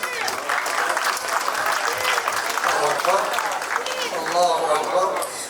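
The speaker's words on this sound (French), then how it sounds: "Applaudissez pour tout ça" Applause from a crowd gathered at a ceremony held during the Porto-Novo mayor's visit to Libreville, a steady dense wash of clapping lasting throughout, with voices mixed in underneath.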